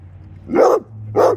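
A dog barks twice at close range, two loud, sharp barks separated by a short pause, with a low steady hum underneath.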